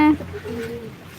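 A white pigeon gives a soft, low cooing call close by on a farm, briefly following a short voice at the start.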